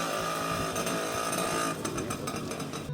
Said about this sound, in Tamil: வண்டியோட அந்த வித்தியாசமான ஒரிஜினல் நாய்ஸையும் அப்படியே பராமரிச்சுக்கிட்டு இருக்கேன்